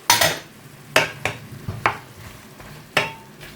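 Tomato goes into a sizzling shrimp pan and gets stirred, with several sharp clinks and scrapes of a utensil against the pan over a low sizzle.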